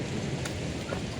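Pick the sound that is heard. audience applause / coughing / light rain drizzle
light rain drizzle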